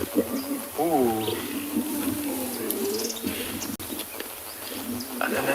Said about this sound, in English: And then there's that deep snarling growl.